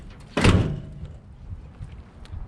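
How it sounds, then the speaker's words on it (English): Door of an abandoned 1971 Chevy C20 truck pushed shut, one close, solid thunk followed by faint rattles and handling noise. "I'm gonna close this door silently."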